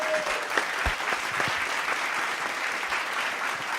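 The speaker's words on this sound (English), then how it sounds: "please give it a warm round of applause for Kimberly Abney" A steady burst of audience applause greets a guest taking the stage, dense clapping holding at an even level throughout with no voices over it.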